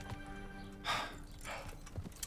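Horse hooves from the medieval video game Kingdom Come: Deliverance, a few soft clopping bursts with a faint snort-like rush over a steady background hum, moderately close and not loud.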